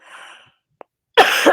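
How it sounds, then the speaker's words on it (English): A single harsh cough bursts out close to the mic during a book chat, loud and lasting about a third of a second after a quiet stretch. "Sorry, I have to cough."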